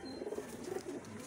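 Highflyer pigeons coo softly in short, repeated throaty pulses, faint and close, with no voices over them.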